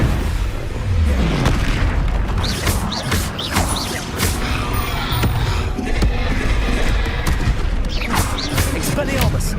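Spell explosions from Confringo casting in the Hogwarts Legacy video game, with repeated booming blasts and crashing impacts over dense continuous combat noise, with no talk in between.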